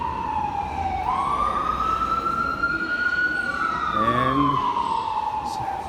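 An emergency vehicle siren wails outside in New York City near Grand Central Terminal, one long rising and falling sweep that carries over steady street and crowd noise.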